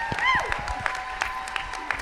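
Sparse, uneven claps from an audience at an arts awards ceremony, punctuated by a brief rising cheer or whoop near the start, with faint voices mixed underneath.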